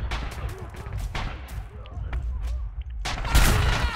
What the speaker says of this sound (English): There's a machine gunner over there.